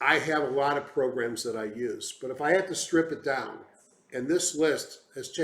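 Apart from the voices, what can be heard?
None of the usual background noises is heard.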